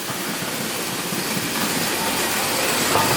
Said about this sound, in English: So now we've got 2 express passenger trains coming through.